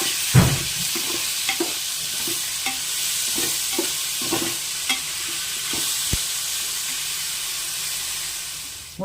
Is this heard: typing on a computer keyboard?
no